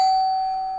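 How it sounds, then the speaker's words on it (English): A single electronic doorbell tone rings clearly and alone, a steady pure chime fading slowly over less than a second. "her doorbell rang"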